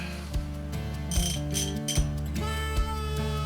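A ratchet with a large socket turns a bolt on a 1982 Harley FLHT brake caliper. Its crisp, rapid pawl clicks sound close up through the whole stretch, with a few louder knocks mixed in.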